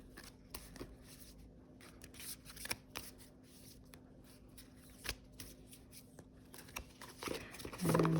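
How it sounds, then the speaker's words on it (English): A deck of cards being shuffled by hand in soft, repeated riffles and taps. It is quiet and close, and a voice starts speaking at the very end. "I am going to just do a little shuffle"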